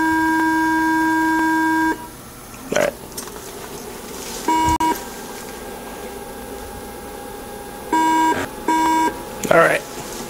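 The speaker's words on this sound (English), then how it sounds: "Keep going until the tone stops." Electronic tone from a breathalyzer during a DUI breath test of a tractor-trailer driver: a long steady beep, then several short beeps and bursts, with voices in between.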